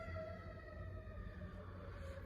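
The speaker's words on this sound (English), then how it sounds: "I'm sorry about these sirens. You hear these sirens?" Emergency vehicle sirens wail faintly in the distance outside, steady tones holding over a low rumbling background.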